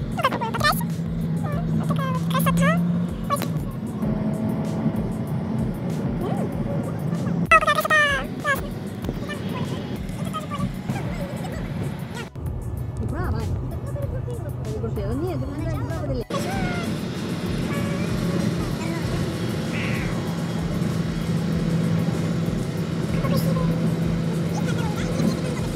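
Steady engine and road rumble from a moving car on a country drive, continuous throughout beneath frequent conversation among the passengers.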